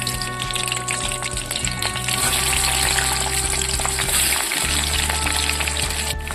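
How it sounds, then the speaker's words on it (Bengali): Boiled potatoes frying in hot white oil for soya chunk biryani, a loud continuous close sizzle with a brief dip midway as pieces shift, no talking. "সাদা তেল গরম হয়ে গেছে, সেদ্ধ করে রাখা আলুগুলো ভেজে নিচ্ছি।"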